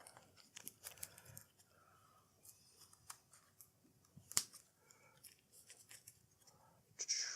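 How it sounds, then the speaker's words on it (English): Playing cards being shuffled back into a deck during a solo tabletop game of 7th Continent, heard as quiet, intermittent papery riffles and flicks at close range with no talk. "let's take these 5 cards back and actually shuffle them back into the deck here."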